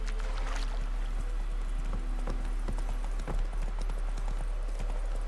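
Horse hooves clip-clopping at a steady trot in The Witcher 3 game, a continuous rhythmic patter over ambient background, no talking.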